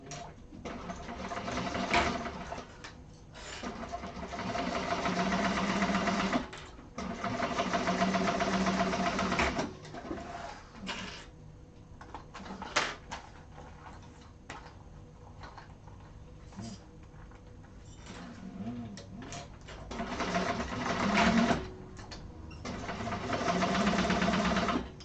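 A sewing machine basts fabric side panels in bursts of rapid, steady mechanical stitching, several runs separated by short pauses, close and moderately loud.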